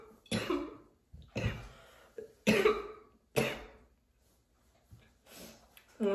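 A series of harsh, raspy coughs in separate bursts, about five fits with short pauses between, close to the microphone.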